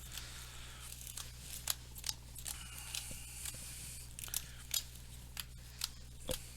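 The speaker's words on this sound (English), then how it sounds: "And then I just riffle shuffle and side shuffle and all that stuff." Sleeved Star Wars trading cards are riffle shuffled by hand, giving a series of quick crisp riffling bursts and light flicks at close range, evenly spaced over a quiet electrical hum, with no talking.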